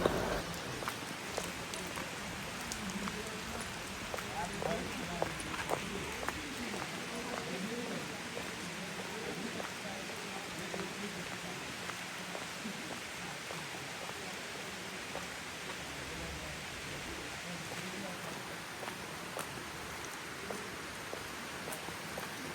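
Heavy rain pours down steadily outdoors, a dense, continuous hiss that stays even throughout without letting up.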